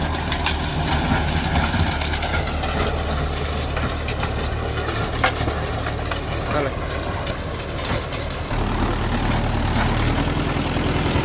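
A tractor engine runs steadily with a rotavator attached and engaged, a loud continuous low diesel drone with a churning rumble, held at about 1400 rpm in a medium gear, while people talk over it.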